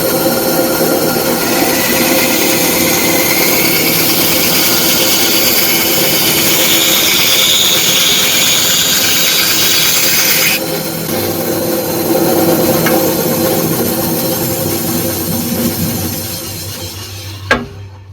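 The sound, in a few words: bandsaw cutting wooden bunny silhouettes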